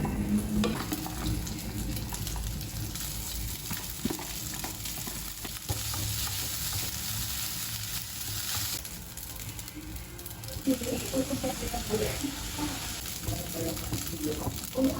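Food being stirred and fried in a pan while cooking nasi goreng, a continuous sizzle with scraping and clattering stirring strokes, close and fairly loud, with occasional voices in the background.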